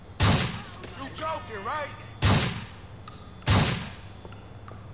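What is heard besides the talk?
gunfire from a gun in video game GTA IV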